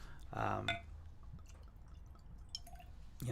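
A drink being poured into a glass indoors: a short splashing gurgle near the start, then quiet scattered drips and faint clinks at close range.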